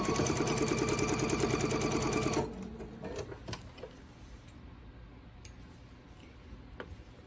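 Sewing machine stitching quilt pieces together, a quick steady whirring run of needle strokes that stops after a couple of seconds, followed by quiet handling clicks and light taps nearby.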